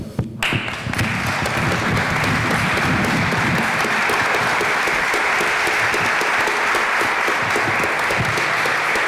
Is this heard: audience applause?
yes